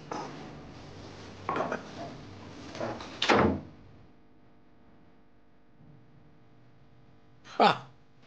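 An indoor door opens with a clatter and a firm thud, followed by quiet room tone and a second sharp knock or bang near the end; voices speak faintly in the household scene.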